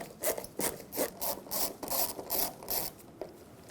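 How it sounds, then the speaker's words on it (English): Phillips screwdriver backing out two screws from a side cab roof light on a 2007-2014 Chevrolet Silverado 2500 HD, heard as a close run of short ratcheting, grinding bursts in a steady rhythm. "use a Phillips head screwdriver, remove the 2 screws that hold on the light onto the roof of the cab"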